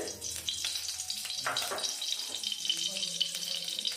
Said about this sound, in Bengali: এবার আমি ফোড়ন দিয়ে দেব পরিমাণ মতো সর্ষের তেল